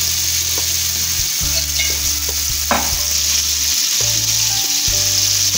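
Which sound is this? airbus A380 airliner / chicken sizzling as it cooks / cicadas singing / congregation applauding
chicken sizzling as it cooks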